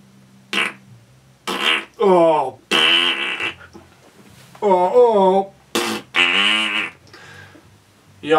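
A voice imitating fart noises, a series of short buzzy raspberry bursts and longer wobbling blasts, some with a moaning tone, loud and close with brief silences between them.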